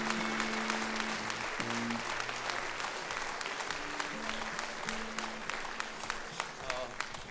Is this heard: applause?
yes